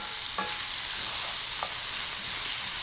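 Food frying in an oiled pan while making a steak sandwich: a constant close sizzle with a couple of brief clinks of stirring near the start and middle, no speech.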